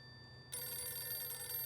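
A telephone starts ringing abruptly partway through, a steady bright electronic ring continuing to the end after a quiet start.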